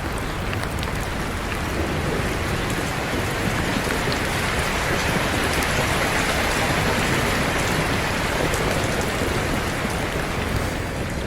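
Steady, dense rain pours down without pause, a broad hiss of drops striking surfaces close by, with no voices.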